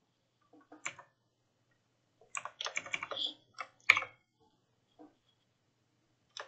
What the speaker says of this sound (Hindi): जैसे ही मैं एंटर प्रेस करूँगा